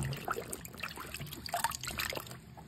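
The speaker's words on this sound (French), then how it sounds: "C'est de l'eau de rinçage, là. Hop, je la laisse égoutter." Rinse water drains and trickles from freshly dyed Aida cloth, a quiet, close, uneven dribbling and dripping with no talk.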